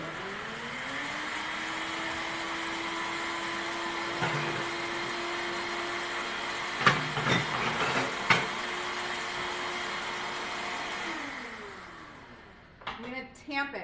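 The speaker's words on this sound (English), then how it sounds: "So let me blend this first." A Vitamix blender runs steadily while blending homemade oat milk, a loud even whirring drone that holds for about eleven seconds with a few brief bumps before winding down, followed by some clatter.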